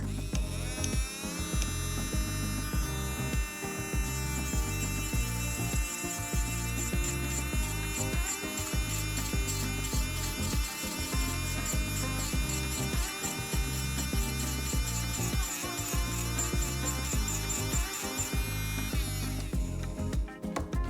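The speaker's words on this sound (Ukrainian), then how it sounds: "Тобто фрезер не зупиняється, працює коректно. Зараз зроблю на реверс." A DM 202 electric nail drill, rated 45,000 rpm and 65 W, whines steadily at high pitch, cuts briefly around one second, then spins up again and runs evenly in reverse until it stops near the end.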